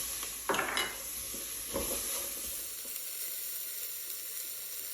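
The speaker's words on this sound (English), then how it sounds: "I'm gonna add in some chopped garlic, and this is about 5 or 6 cloves" Chopped garlic, about five or six cloves, sizzling and being stirred with caramelized onions in a pot for chili, a steady close hiss broken by a few scraping stirs, no talk.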